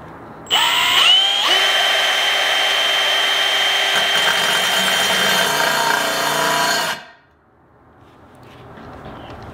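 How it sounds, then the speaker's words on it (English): A power drill whines loudly for several seconds as the bit grinds a hole through bathroom tile, then cuts off abruptly, leaving faint background noise. "now that the drill bit's stable, I can kind of rotate vertical so that it cuts the hole straight"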